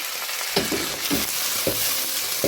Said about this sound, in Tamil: இந்த வெங்காயம் கொஞ்சம் வதங்கி கருவாடும் எல்லாம் பொரிஞ்சு நல்ல வாசமாக வருது